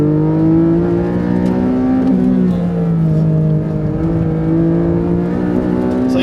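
A 2023 Porsche 718 Cayman GTS 4.0 with traction control off, its flat-six engine loud and close as it accelerates hard in Sport Plus, revs climbing steadily with a brief dip like a gearshift midway, no voices over it.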